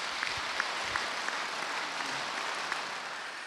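A concert audience applauds at the 2022 "Dil Muza" show, giving a dense, even roar of clapping with a few sharper individual claps standing out.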